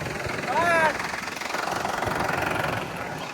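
A tractor engine chugs steadily at a site where electric poles are being set, a continuous mid-level knocking drone with a brief whining tone riding over it early on.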